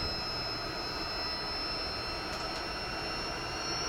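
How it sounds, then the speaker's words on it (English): An L-39 Albatross jet engine spools up in the DCS World flight simulator, a steady loud roar with a high, sustained whine riding on top, heard alone. "As you can see, the engine spooling up."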